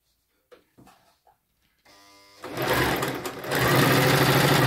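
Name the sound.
Toyota RS2000 sewing machine stitching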